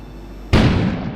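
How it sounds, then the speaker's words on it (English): An explosion in front of a store in the survival video game Kona hits as a sudden loud boom, then rumbles and decays after a quiet interior hum. "It sounded like an explosion had occurred in front of the store."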